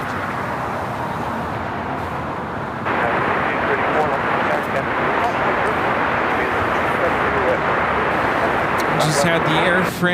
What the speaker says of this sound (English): Had the Air France 777-300ER touchdown here on the south side, coming in from Paris